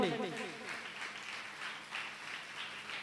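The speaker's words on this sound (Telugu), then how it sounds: "నమ్మిన వారందరూ చప్పట్లు కొట్టండి" A church congregation breaks into broad applause during a Sunday message, a dense sustained clapping that swells and eases across the moments, with a voice briefly audible at the start.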